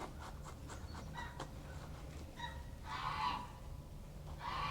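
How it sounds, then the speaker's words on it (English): Penned geese honking and calling in the background, faint to moderate bursts of cackling through steady outdoor ambience with soft rustling nearby, no speech. "I apologize if you can hear the geese shouting"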